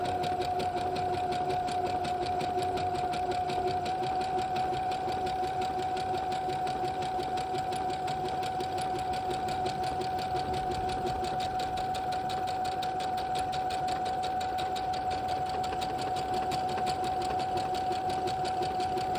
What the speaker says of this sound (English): As you can see how fine the machine is making the buttonhole.